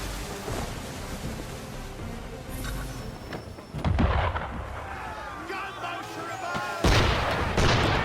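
Ship cannons firing at sea in Assassin's Creed 3, booming shots with a heavy blast near the four-second mark and another near seven, over rushing wind and water, with voices talking.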